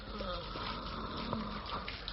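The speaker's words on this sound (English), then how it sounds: "pour some of that water through his teeth" Water sloshes and pours in a continuous gushing stream, quiet and close, as in a radio play scene of water poured into a man's mouth.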